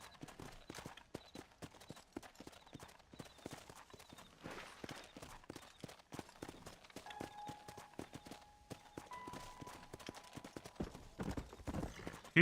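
A horse in Red Dead Redemption moves along in rapid, rhythmic clip-clop hoofbeats, fairly close and moderately loud, and a few brief tones and a short squeal surface near the end.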